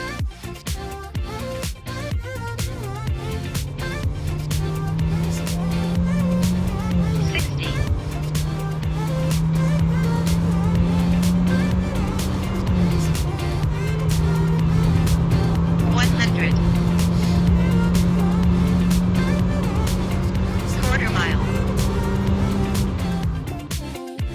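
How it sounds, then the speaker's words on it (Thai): An MG5 Pro sedan with a 1.5-liter engine accelerates hard, its engine note climbing steadily in pitch through several gear changes, each shift marked by a brief dip before the rise resumes, loud and sustained from start to finish. "เดี๋ยวเราลองไปดูอัตราเร่งของรถคันนี้"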